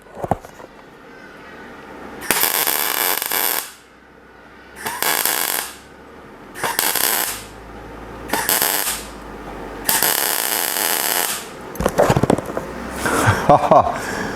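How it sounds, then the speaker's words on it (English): Arc welding on a rat rod with the amps turned down comes as five bursts of loud, close crackling hiss, each lasting a second or two, broken by quiet gaps and followed by a few tapping knocks. "So I'm going to adjust my amps down, and hopefully we will get a better weld on the next one."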